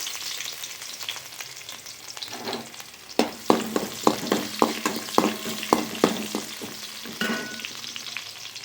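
Onions frying with cumin seeds in hot oil for a carrot poriyal, a steady crackling sizzle broken by a run of sharp, regular clicks and scrapes as the pan is stirred, with no talking.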